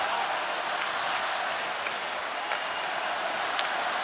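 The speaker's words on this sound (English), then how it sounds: "I think the crowd's starting to get a little bit more lively" A hockey arena crowd at an outdoor dome game gives off a broad, steady roar of cheering and chatter, with a few faint claps and shouts rising out of the mass.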